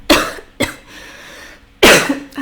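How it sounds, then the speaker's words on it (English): Someone coughs while incense burns nearby, three loud, close coughs in a short row: two quick ones, then a pause filled with breathing before a third, heavier cough, with no talking. "I have this incense that's burning and it always makes me cough."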